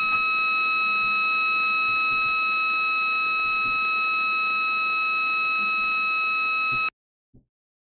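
A small W10S siren gives a steady, piercing high-pitched electronic tone in the French siren style, held loud and unbroken for about seven seconds before cutting off abruptly, followed by a brief faint click.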